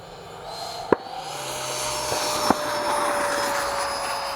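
A Freewing JAS-39 Gripen 80mm EDF RC jet with thrust vectoring takes off in breezy conditions, its ducted fan a steady high-pitched whine with a broad rushing roar, joined by two sharp knocks, no talk over it.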